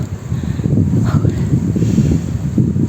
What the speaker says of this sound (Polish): szczere pole i wiatr